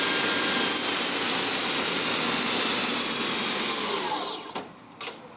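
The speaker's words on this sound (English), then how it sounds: "That's the noise this bike makes at 115 mile an hour." A ZEV M-15-S electric sports motorcycle running at 115 mph, giving a loud, steady high-pitched electric whine with rushing noise that holds, then sweeps down in pitch and fades as it slows near the end.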